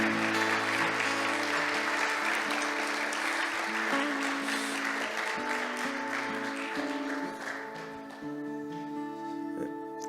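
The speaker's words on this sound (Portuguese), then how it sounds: "Você pode aplaudir a palavra do Senhor?" A church congregation applauds the word of the Lord, steady clapping over sustained keyboard music, thinning out slightly toward the close.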